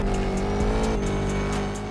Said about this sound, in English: the supercharger whine is like stuck at the tone